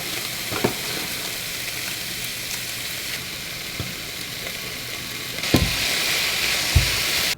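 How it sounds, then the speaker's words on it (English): Chicken and spinach frying in a pan, a steady close sizzle throughout with a few clanks of a utensil and a louder, denser burst of frying near the end. "I was frying it up in the frying pan because I hate using microwaves."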